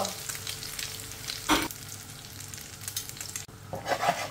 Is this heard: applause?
no